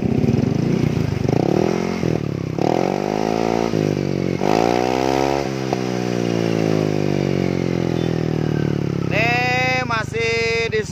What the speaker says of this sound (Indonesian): Nih kita geber ya.